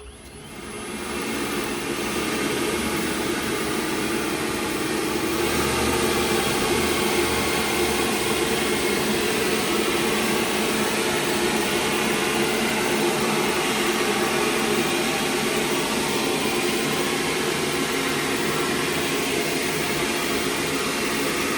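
An EGO battery leaf blower fitted with an 8.3-foot gutter cleaning extension roars continuously while clearing a gutter, a loud steady rushing whine that starts up and holds for the whole stretch without pause.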